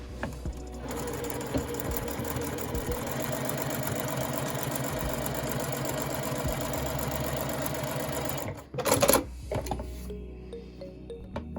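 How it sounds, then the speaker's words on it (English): A sewing machine stitches a flying geese quilt triangle, running in a steady, close whirring hum for about eight seconds before stopping, with a short clatter of handling afterward. "So I'm just gonna sew him, and then we're gonna trim."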